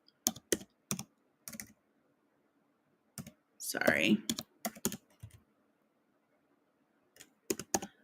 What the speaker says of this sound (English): I'm typing with one hand and not two